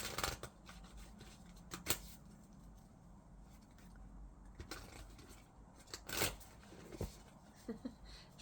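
Moonology oracle cards are shuffled by hand, giving soft riffling and sliding with a few sharper slaps of the deck, close and quiet, with no talking.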